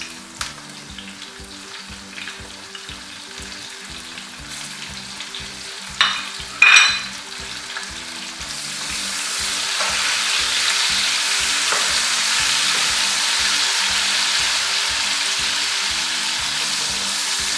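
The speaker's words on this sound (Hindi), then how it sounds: "टमाटरों को थोड़ा सा भून लेंगे ताकि थोड़े सिमर हो जाए।" Tomatoes for a chickpea pulao frying in a pan: a loud, steady sizzle swells up and then holds, with a couple of sharp stirring clatters just before it builds, all close-up and with no talk.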